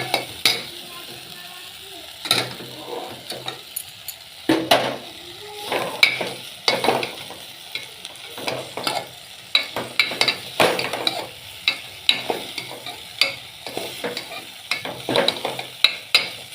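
Bitter gourd fries in a pan while a spatula stirs it in repeated scraping strokes that rise over a quieter sizzle, close up and with no speech.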